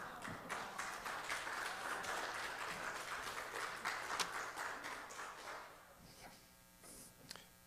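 Sustained applause from a congregation at a bar mitzvah service at Temple Solel, many hands clapping together for several seconds before it thins out and stops.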